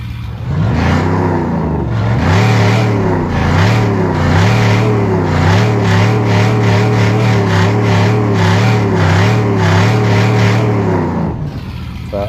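A Ford's engine revs in a mobile online racing game, a loud steady synthetic drone rising and falling in repeated throttle swells for several seconds, alone and close.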